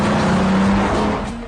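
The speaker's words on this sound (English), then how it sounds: "that VR6 engine is one of the best VW ever made" A Volkswagen with a 2.9-litre VR6 V6 engine rated at 190 brake horsepower runs hard on the move, giving a loud, dense, continuous engine roar with a steady low hum and road noise that eases slightly toward the end.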